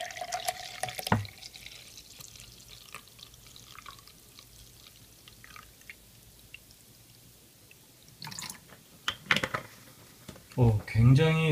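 Water is poured into a cup of MRE drink powder, with a quiet stretch of faint dripping and handling before a louder splashing pour near the end.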